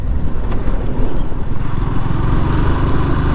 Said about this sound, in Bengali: সো গাইস বাইকটা একটু লাফাচ্ছে,